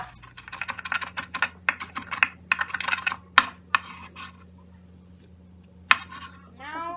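A knife dices fresh tomatoes on a cutting board for homemade pasta sauce. Quick bursts of close, rapid chopping taps come in clusters, separated by a few sharper isolated knocks.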